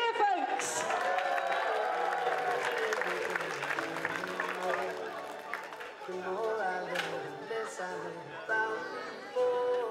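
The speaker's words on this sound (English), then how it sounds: "Give them a cheer, folks." An outdoor crowd at a soapbox derby in Bideford cheers and applauds the marshals, a continuous mass of clapping and voices mixed with chatter, with bursts of whooping rising over the din.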